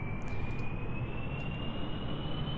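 Rocket engines roar steadily in the Kerbal Space Program video game, a loud continuous broadband rumble with a faint rising whine, heard alone without talk.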